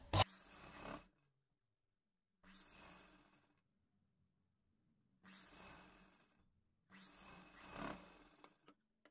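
A domestic sewing machine stitches a cowl neck top in four separate bursts of whirring, each lasting about a second, with quiet gaps between them, fairly faint and close by.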